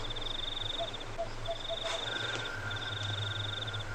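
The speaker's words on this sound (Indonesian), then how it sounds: "kodok." Frogs croak in repeated rhythmic trains inside Goa Wayang cave, with steady insect-like chirring and a damp background hiss, moderately close and continuous.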